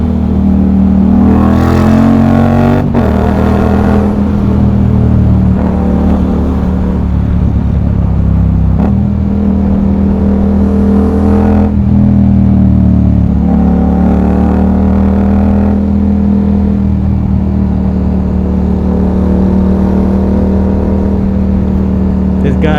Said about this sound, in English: I will shut up for a minute so you guys can enjoy the sound of the bike